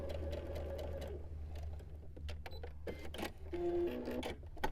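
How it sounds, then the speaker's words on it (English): A sewing machine with a regular sewing foot stitches fabric pieces along a marked line for a quilt block, its steady motor hum running throughout with a brief pause and restart, close and alone. "Now I've got my regular sewing foot on here, and I'm following the line for stitching."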